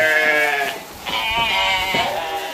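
Jacob sheep in a barn give a couple of loud, wavering bleats close by, one long call followed by shorter overlapping ones, with no talking.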